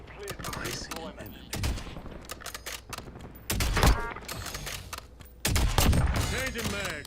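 Automatic gunfire in Call of Duty Warzone on the Verdansk map, with bursts that swell and fade, three heavier volleys standing out, and clicks in between.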